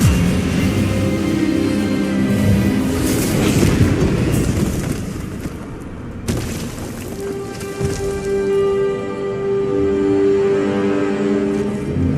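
An Expelliarmus spell is cast in the Hogwarts Legacy game: a loud rushing burst of magical energy swells and crackles, breaks off sharply midway, then gives way to ringing tonal shimmer and a lingering rumble.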